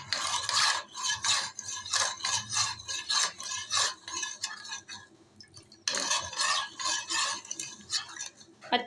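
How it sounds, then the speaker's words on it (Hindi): A spoon stirs sugar in a pan while making kunafa, giving steady rhythmic scraping and clinking strokes close by with a brief pause midway, and no voices. "इसको आपने ना चम्मच लेकर अच्छे से मिक्स करना है।"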